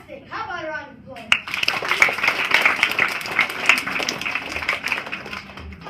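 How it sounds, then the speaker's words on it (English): Audience applause breaks out right after a short vocal bit, a dense, moderately loud wash of clapping that carries on steadily to the end, with some voices underneath. "How about a round of applause?"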